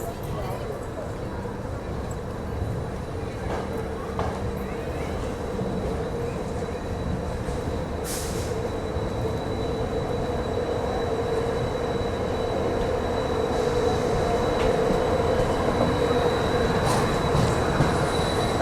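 Rani Chennamma Express rolls along as heard from inside its first AC coach: a continuous rumble of wheels on rails with faint squeals and clicks, growing slightly louder over time, while a voice talks in the background.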